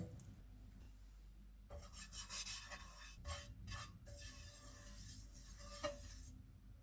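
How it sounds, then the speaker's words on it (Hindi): Oil is spread across a frying pan while preparing chicken egg rolls, giving a quiet, intermittent scraping and rubbing texture in short strokes, heard close and alone. "फ्राइंग पैन में थोड़ा सा ऑयल लगाएंगे।"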